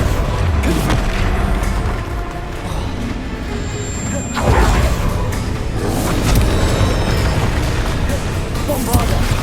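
Incendio fire-spell blasts from Hogwarts Legacy form a dense, continuous roar of booming, crackling bursts, with a louder surge midway, layered with a voice talking throughout.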